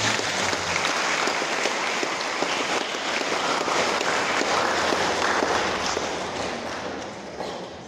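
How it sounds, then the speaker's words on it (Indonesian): Wedding guests at a Holy Matrimony ceremony clap steadily for the newly married couple, a dense, even applause from a crowd that fades slightly toward the end. "mari kita sambut mereka dengan tepuk tangan"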